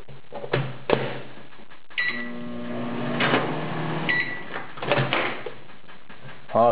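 A microwave oven hums steadily nearby, with clicks, door clunks and rattling handling noises breaking in throughout.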